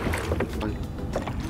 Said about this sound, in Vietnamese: Để chèo ra một xíu.